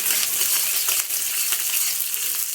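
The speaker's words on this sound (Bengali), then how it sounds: "তো এবার পেঁয়াজ কুচিটা একটু লাল লাল হোক" Chopped onion fries in hot oil in a pan, a dense, close, continuous crackling sizzle with small pops and stirring scrapes throughout.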